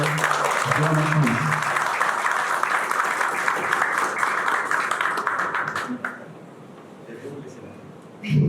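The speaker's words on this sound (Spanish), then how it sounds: "Demos una cálida bienvenida y un fuerte aplauso." Audience applause welcoming a speaker at a presentation on parametric agricultural insurance, sustained loud clapping from a crowd that fades out after about six seconds, with brief voices.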